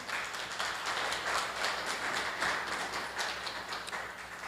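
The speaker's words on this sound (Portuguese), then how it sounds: "Dê uma salva de palmas" A church congregation at a communion service breaks into steady, sustained clapping, a dense even patter of many hands filling the room without pause.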